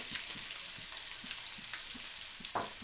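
Two large chopped onions frying with half a teaspoon of cumin in a pan for a curry, giving a constant hissing sizzle with faint stirring taps, moderately quiet and without speech.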